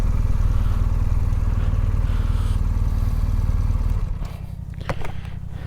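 A motorbike pulls away on a mountain road toward Himachal, its engine a steady, loud drone that fills the first four seconds before dropping to a rougher, quieter idle-like rumble with some clatter.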